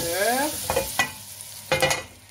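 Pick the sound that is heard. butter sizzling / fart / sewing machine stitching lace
butter sizzling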